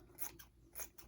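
Two quick crisp snips of dull scissors cutting through dryer sheets, close and quiet, with a short pause between them.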